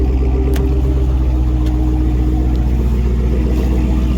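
An 840HP Dodge Charger Hellcat Redeye's engine rumbles steadily and loudly nearby, a deep continuous drone with a sustained whine on top throughout, with no talking.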